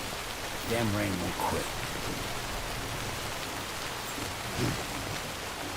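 Steady rainfall in the video game Death Stranding, a dense even hiss of drops throughout, with someone briefly speaking over it.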